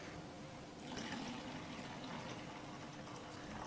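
Vitamin water pouring from a bottle, a steady close liquid rush that swells after the first second and keeps running without talk.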